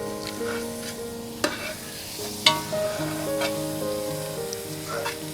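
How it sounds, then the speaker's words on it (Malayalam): Beef bone biryani being stirred in a pot, Kerala village style, with scraping spoon strokes and clanks over a low sizzle and background tonal sounds, close and moderately loud. "നീ ഇളക്കിക്കോ."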